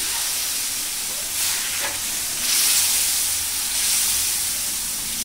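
Dried chilli, bay leaf, five-spice and ginger paste sizzle in hot oil as tempering for khichuri, a loud steady frying hiss that swells slightly midway with faint stirring and no talk.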